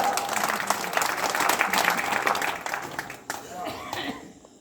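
Audience applause, a steady burst of clapping from a crowd that thins out and fades toward the end, with some faint voices underneath.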